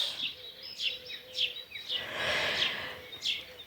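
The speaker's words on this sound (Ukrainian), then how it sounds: "А пташки і все інше вже прокидаються теж." Several small birds chirp in the morning in short, high bursts at a distance, with a soft swelling hiss of ambient noise in the middle.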